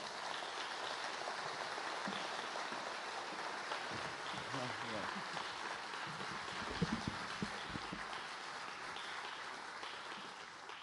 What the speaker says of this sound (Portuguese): E por isso também quero pedir uma salva de palmas